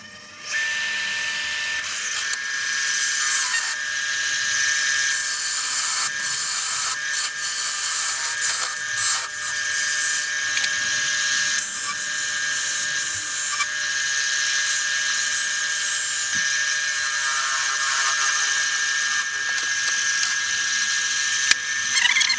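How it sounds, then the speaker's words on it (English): A lathe tool cuts into spinning wood while the foot of an apple box is carved and hollowed into a concave base, a continuous high, rattling whine with scraping bursts throughout. "I'm really just going to carve away the foot and put a little bit of a concave into the base"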